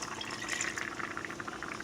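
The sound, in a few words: pouring water into tomato sauce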